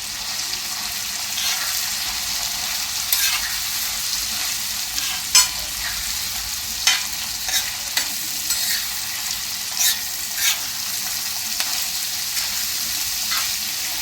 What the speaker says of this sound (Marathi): कांद्याबरोबरच कोबी घालायचं आहे आणि शिमला मिरची घालायची।